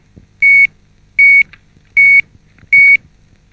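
A microwave oven beeps four times in an even rhythm. Each beep is a short, clear electronic tone with a quiet room hum beneath it, and no one talks.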